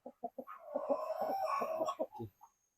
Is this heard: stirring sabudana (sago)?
no